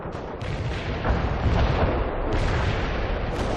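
An artillery barrage strikes its target in World in Conflict, a continuous roll of heavy, loud explosions and booms overlapping one another across several seconds.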